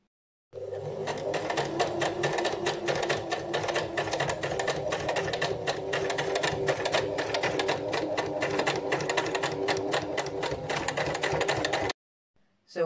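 A sewing machine stitches face mask fabric pieces in a steady, fast, close mechanical chatter that runs continuously for about eleven seconds and then stops abruptly.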